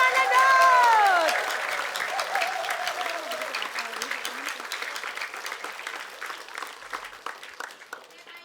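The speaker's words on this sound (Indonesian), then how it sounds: "Tepuk tangan dulu dong buat Mas Dodot" An audience applauds a contestant named Mas Dodot on an Indonesian comedy game show, steady clapping that swells loudly at first and then slowly fades, with a voice speaking over the opening moments.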